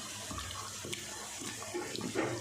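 Food is stirred by hand in cold water in a bowl, giving faint, close splashing and sloshing with a few small bursts, and no talk.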